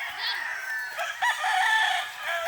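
Chickens and a rooster on a farm crow and cluck in a busy, fairly close chorus, overlapping calls continuing throughout.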